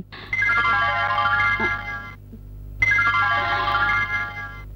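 A phone ringtone plays two bursts of a bright repeating melody with a short silence between them, loud and close over a low steady hum in an indoor movie scene.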